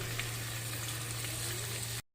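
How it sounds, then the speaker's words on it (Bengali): Whole cloves and cardamom sizzle in hot frying oil in a large wok-like pan, a soft, steady crackling hiss that runs on evenly and then cuts off abruptly. "তেলটা দেখো একটু গরম হলে ফোড়নটা অ্যাড করে দিচ্ছি"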